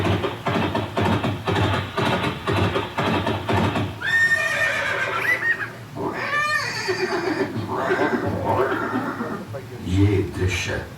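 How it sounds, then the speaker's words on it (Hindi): A horse neighs in loud, shrill whinnies several times at close range over a rhythmic background of clopping hooves and music, in a dramatised battle scene at a Haldi Ghati museum, with a voice narrating underneath. "घोड़ा आवाज।"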